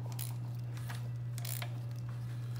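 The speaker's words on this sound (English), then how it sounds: "So if your motor is clacking like that, the timing chain, you might not want to get it." A used motor's timing chain clacks as it rotates: irregular sharp clicks ride over a steady low mechanical hum, close and fairly loud.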